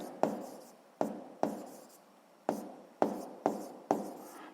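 A pen writing an answer on paper for a physics exercise, several short quiet scratching strokes in an irregular rhythm, close up and alone.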